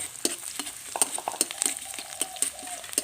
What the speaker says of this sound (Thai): เจียวกระเทียมไม่หอม แต่ไม่ต้องให้สุกให้เหลืองนะครับ